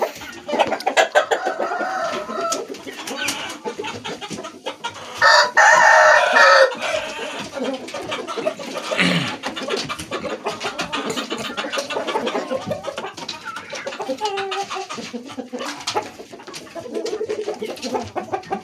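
Chickens with a rooster crowing; loud crows and clucking repeat close by across the whole stretch, with one especially strong crow in the middle, and no talk over them.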